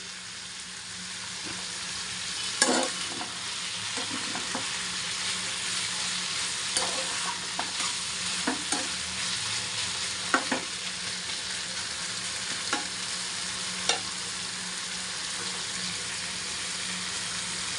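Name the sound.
stirring taro stolon and prawn curry in a pan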